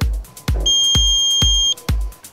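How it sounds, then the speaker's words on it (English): A small electronic buzzer powered by six lemons in series sounds a high steady tone alongside a series of regular low thumping beats. "Six lemons in series and a small buzzer."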